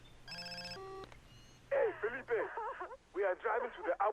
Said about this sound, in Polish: Ej, komórka mi dzwoni, co jest grane?